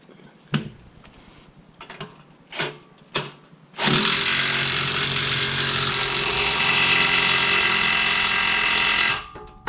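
An impact wrench drives an 18 mm bolt on a Jeep Cherokee aftermarket shock, loud and close, in one sustained hammering burst of about six seconds after a few clunks and taps.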